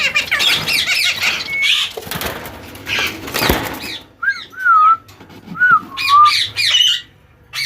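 Green ringneck parrots in a breeding setup, repeated loud shrill squawks and whistled calls, dense at first, then separate bursts with short gaps.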